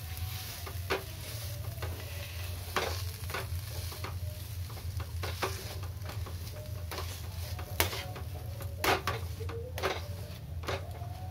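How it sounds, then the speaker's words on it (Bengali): Boiled potato and tomato are mashed together in a pan over the heat. A spoon scrapes and taps in an irregular rhythm over a constant low sizzle. "এবার এই আলুটাকে ম্যাশ করে নেব।"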